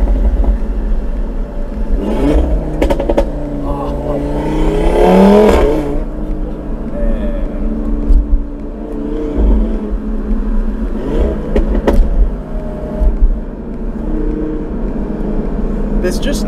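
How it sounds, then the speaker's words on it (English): Stage 3 tuned Audi RS3 with about 510 hp accelerating hard on the road, engine note rising and falling with crackling pops and bangs from the exhaust, heard from inside the car, near and loud throughout. "I'm going to try and pick up the pops and bangs for you."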